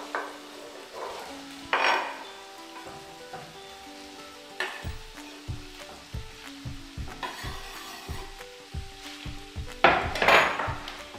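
Zucchini pieces fry with sausage in a pan, a steady sizzle broken by repeated scraping and knocking of a utensil stirring against the pan, with a few louder clatters.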